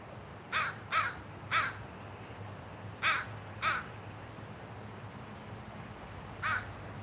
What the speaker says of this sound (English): oh, that's a big old crow.